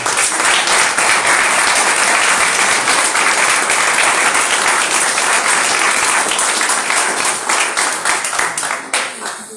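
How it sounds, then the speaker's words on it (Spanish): An audience gives a loud, dense round of applause in memory of a deceased colleague at a commemorative gathering, sustained and even before tapering off in the final seconds. "me gustaría que le diéramos un aplauso."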